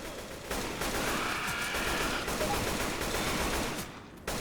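Rapid bursts of AK rifle fire in the zombie video game Left 4 Dead 2 run loud and nearly continuous for about four seconds, a dense crackling volley with no talk over it.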